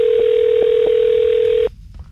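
A steady telephone tone, briefly interrupted by a few short clicks, plays loud and close during a call transfer on a radio phone-in show, then cuts off abruptly into quiet line noise.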